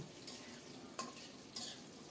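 Potato pieces fry gently in hot oil seasoned with black cumin, a soft low sizzle with a few spoon scrapes and stirs against the pan.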